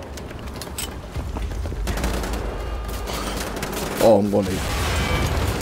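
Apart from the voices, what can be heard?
handheld grenade launcher firing in Wolfenstein: The Old Blood video game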